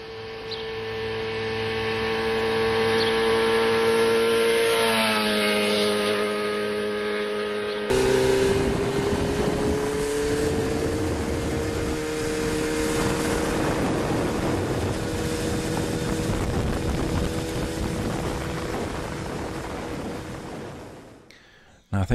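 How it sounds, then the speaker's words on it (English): A motorcycle travelling at constant speed gives a steady, droning engine tone that holds one pitch, shifts briefly partway through, then carries on evenly and fairly loud. "let's have a listen to this clip of the motorcycle whilst it's travelling at a constant speed and therefore a constant tone"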